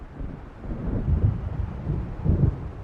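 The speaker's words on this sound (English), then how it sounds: "It seems there's a storm coming." Thunder from an approaching storm over waves in Alan Wake, low rolling rumbles that swell twice in quick succession over a constant dark wash of wind and surf.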